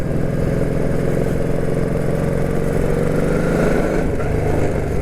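A Honda Shadow 1100 touring motorcycle pulls away under acceleration, its engine giving a steady, loud mid-pitched drone that holds strong throughout with no voices over it.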